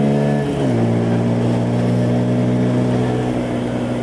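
Close, loud Bajaj Pulsar P150 motorcycle engine drops in pitch after a gear change, then holds a steady droning note as it keeps accelerating.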